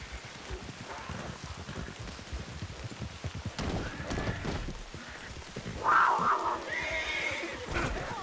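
A horse in Red Dead Redemption 2 whinnies loudly, with hoof clip-clops and a rainy outdoor backdrop as it climbs a hill; the neigh stands out clearly in the second half.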